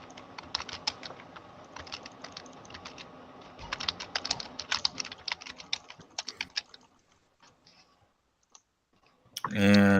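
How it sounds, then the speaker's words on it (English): Rapid computer keyboard typing in a quiet room, a dense run of close, crisp clicks that thins out after several seconds, with a brief burst of louder noise at the end. "I was just typing these things in, so I don't have to ask again."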